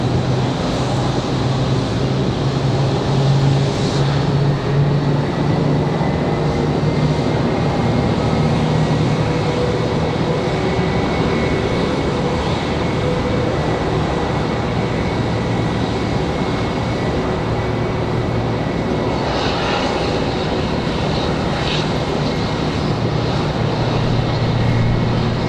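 An airliner departs Raleigh-Durham airport on a windy day, a steady, loud engine roar that persists throughout with little change in level.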